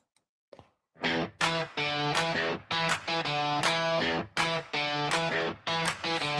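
Mr. Bill Tonight outro song starts after a brief click, then bursts into a loud, dense band arrangement with punchy rhythmic hits and a driving bass, continuing steadily with short dips between phrases.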